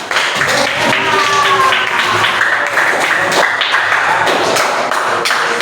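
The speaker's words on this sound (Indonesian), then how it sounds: "ya, tepuk tangan" Students in a classroom clap together in a continuous burst of applause, close and fairly loud, with voices mixed into the clatter.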